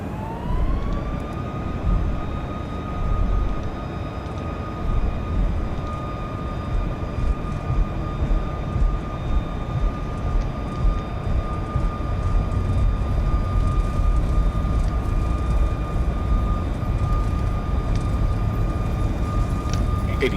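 Boeing 737 MAX jet engines on the takeoff roll in the X-Plane 11 flight simulator, a loud continuous roar with a steady high whine that rises briefly at the start and then holds.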